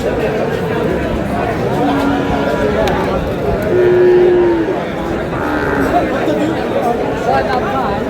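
A large Sahiwal bull at a cattle market in Comilla gives a brief, low moo amid the constant chatter of a busy crowd, with people talking nearby throughout.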